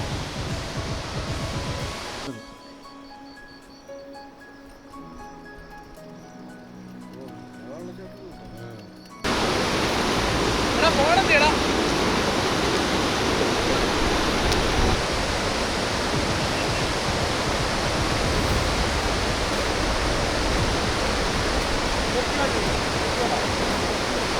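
A forest waterfall pouring over large rocks, a dense steady roar of rushing water that starts loud, drops away briefly behind a quieter tonal passage, then returns full and constant to the end.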